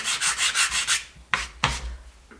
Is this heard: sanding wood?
yes